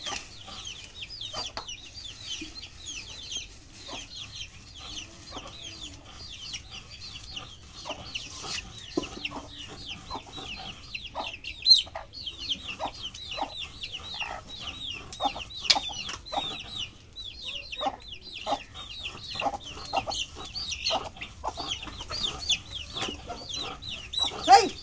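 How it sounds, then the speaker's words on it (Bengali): Chickens cluck near the listener, repeated short calls and chatters, irregular and continuing throughout over quiet background noise. "মুরগি দেখো"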